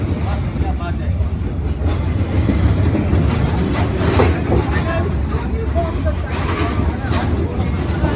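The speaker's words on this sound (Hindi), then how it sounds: "तो गाइज़ आप लोगों ने देखा कितनी करीब से ट्रेन गुजरी थी" Train passing extremely close on Hanoi's Train Street in Vietnam, a continuous loud rumble and rattle of wagons filling the whole stretch, with people's voices mixed in.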